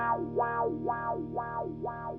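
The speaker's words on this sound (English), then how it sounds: "I'm going to hold a chord and then I'm going to turn on the auto wah so you can hear its effect coming in" A held guitar chord runs through an auto wah effect, the tone sweeping up and down in a steady, even cycle about twice per second, alone and moderately loud.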